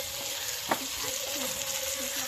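Spice paste of ginger-garlic paste, cumin powder, chopped tomato, green peas and chili fries in hot oil in a wok with salt, giving a steady close sizzle and one brief clink of stirring.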